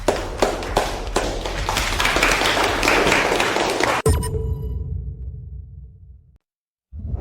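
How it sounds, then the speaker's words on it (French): An audience bursts into dense, sustained applause for about four seconds before it cuts off abruptly, leaving a quiet fading tail and then silence. "Applaudissez, tout le monde."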